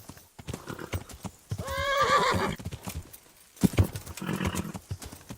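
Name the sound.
horse hooves and neighing in Kingdom Come: Deliverance video game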